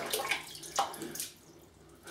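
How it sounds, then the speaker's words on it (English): Water is poured onto a shaving brush, giving a few brief splashing gurgles over about two seconds, close and fairly quiet. "We'll put in some water."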